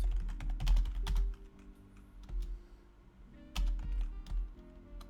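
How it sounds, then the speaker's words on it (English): Computer keyboard typing heard up close as keyboard ASMR, a quiet run of crisp clacky keystrokes in uneven bursts with a short lull partway through, no voices. "Yeah, I love keyboard ASMR."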